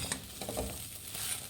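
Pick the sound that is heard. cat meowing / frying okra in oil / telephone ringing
frying okra in oil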